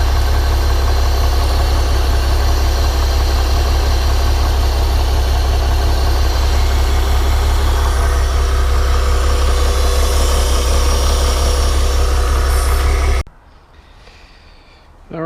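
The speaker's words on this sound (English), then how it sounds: "we have run the engine out of gas" A Honda 200hp outboard engine runs at a steady idle, a loud continuous low rumble that holds for about thirteen seconds, then cuts out abruptly, leaving only quiet background.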